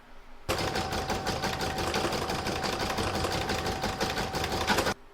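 A computerized embroidery machine sews decorative stitches joining fabric pieces on an in-the-hoop crazy patch bag, a steady close rapid mechanical clatter that starts abruptly and runs continuously for several seconds, with a faint constant whine underneath.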